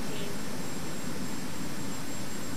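Jet aircraft engine in a flight simulator such as X-Plane 11 or Microsoft Flight Simulator, a steady, loud, broadband roar with a constant high whine that runs unbroken with no talk.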